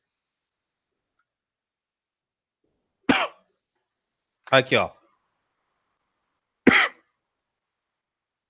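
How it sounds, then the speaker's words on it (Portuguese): A few separate coughs and throat clears from someone speaking Portuguese, close and dry, spaced out across several seconds of silence, with a brief spoken remark among them. "Ai, desculpa, eu tive que pausar para tossir."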